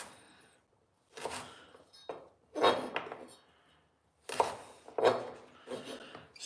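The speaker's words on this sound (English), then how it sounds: "You want to be very careful chopping, and especially when I'm doing it on camera." Knife chopping food on a cutting board in a home kitchen while making gravy, several short bursts of quick, close taps separated by brief pauses.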